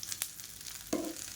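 Curry leaves sautéing in a pan with softened garlic and shallots for a Tamil kulambu, a faint steady sizzle with a couple of brief stirring scrapes, close and quiet with no voices.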